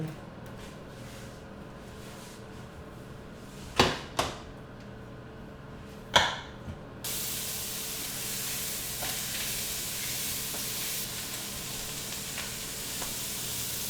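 Italian hot sausage browning in a frying pan for a spaghetti sauce gives a steady broadband sizzle that starts suddenly midway and carries on alone, after a few sharp knocks and clatters from the pan.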